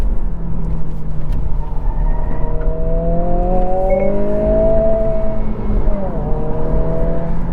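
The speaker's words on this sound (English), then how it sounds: "Man, good power from the turbo." A 2022 Honda Civic Si's turbocharged engine pulls hard in sport mode, a loud, close drone rising steadily in pitch through the gear, briefly dipping at a shift before climbing again.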